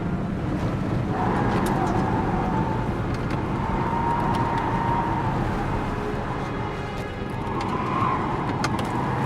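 Car engine droning steadily while driving in the video game Heavy Rain, a continuous low rumble with faint tonal whine and occasional clicks, no speech.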